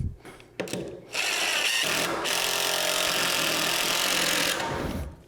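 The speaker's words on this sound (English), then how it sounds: "I'm just going to throw a couple of screws down at an angle into that floor panel." A power drill drives screws at an angle into a wooden floor panel during a bathroom renovation, with a couple of short bursts and clunks, then a long, loud whirring run before the motor winds down.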